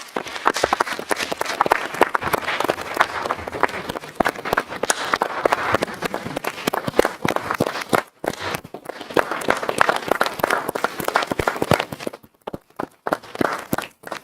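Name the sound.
audience applause at council meeting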